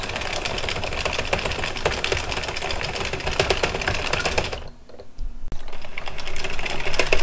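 A knitting machine works a hat, its carriage sliding back and forth in a steady stream of rapid clattering and clicking, loud and close, with a brief lull near the end before it resumes.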